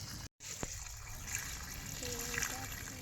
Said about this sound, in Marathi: तर आता इथे ना जो पाणी आहे वरचं ते काढून घेते.